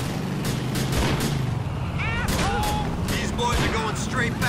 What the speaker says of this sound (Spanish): Es que la escopeta, hostia, esto es brutal